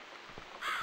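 A crow caws on a balcony in the video game The Cat Lady, a single harsh, fairly loud call near the end after a quiet stretch.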